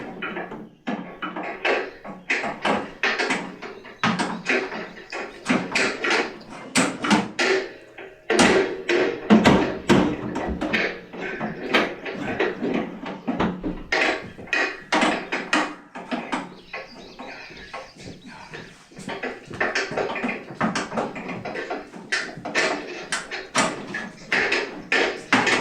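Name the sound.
hammer prying out parts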